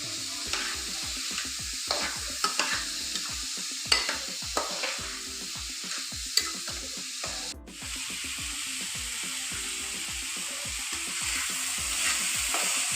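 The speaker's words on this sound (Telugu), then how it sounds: "అందులో దొండకాయ వేసుకొని కొద్దిగా నూనెలో ఫ్రై చేయండి గట్టిగా" Ivy gourd fries in a little oil while a spatula stirs it, making a steady sizzle under repeated scraping strokes, with one sharp clack midway.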